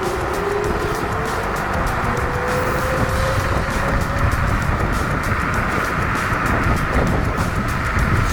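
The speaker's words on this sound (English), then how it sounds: "Dual motor, full acceleration, turbo mode, go." A Nanrobot D6+ dual-motor electric scooter accelerates in turbo mode, heard as a rising motor whine buried under constant loud wind rush and road roar from start to finish.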